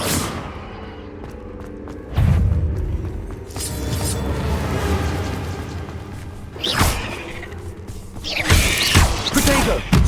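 In Hogwarts Legacy, the Confringo spell goes off as a series of booming blasts with whooshes and thuds, in bursts near 2, 7 and 9 seconds over a rumbling game soundtrack.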